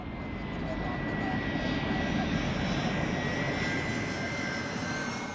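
A jet airliner roars at Heathrow Airport, a loud, steady engine rumble with a high whine, continuous and close throughout; speech may be present underneath.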